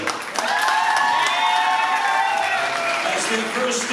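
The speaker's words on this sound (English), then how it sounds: "let's give them a big round of applause to make their way." Wedding guests applaud and cheer as a newly married couple is brought out to the dance floor at a reception, a dense wash of clapping that holds for several seconds while a voice carries over it.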